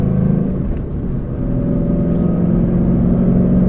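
A Ford Mustang's Coyote V8 pulls steadily in third gear through an MT82 manual gearbox, a close, continuous engine drone with a deep low rumble that climbs gently as the car accelerates.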